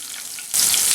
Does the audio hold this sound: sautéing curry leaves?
yes